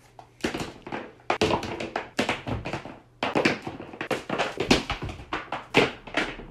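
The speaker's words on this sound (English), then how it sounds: "the clapping sound of shoes hitting the ground right after another" Vans shoes dropped one pair after another onto the ground, giving a quick, irregular string of sharp slapping thuds, close and crisp, about fifteen impacts in a few seconds with short pauses between groups.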